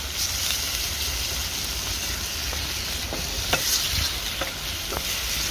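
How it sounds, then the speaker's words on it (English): Steady, loud sizzling of marinated prawns frying over high heat, with occasional faint clinks of a utensil stirring in the pan. "Sizzle away on a nice high heat and reduce that marinade"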